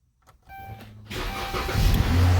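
Car engine cranking and catching after a battery change, a few quiet clicks, then a whirring starter that fires into a running engine and settles to a steady, close idle.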